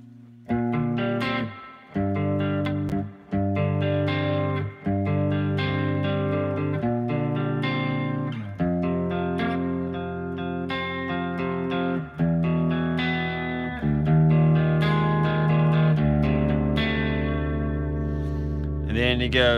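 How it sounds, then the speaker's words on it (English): An electric guitar through a Headrush rig with a swirling, warbling Leslie rotary-speaker effect plays chords and melodic lines, with sustained notes shimmering and pulsing throughout. "it's definitely a Leslie sound"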